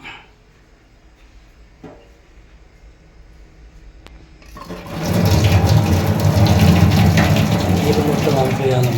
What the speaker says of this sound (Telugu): నీళ్ళు మొత్తం అంపేయాలి.